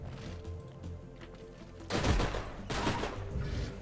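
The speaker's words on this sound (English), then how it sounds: "We get a flanking shot here." A flanking shot in the strategy game Age of Wonders Planetfall lets loose a loud burst of rapid automatic gunfire, with two dense volleys crackling close and heavy.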